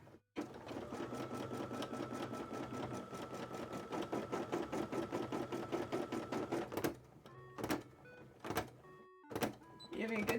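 An embroidery sewing machine stitches cosplay fabric in a steady, fast, buzzing whir that runs for about seven seconds. Short stop-start bursts follow, with a person talking lightly over the machine.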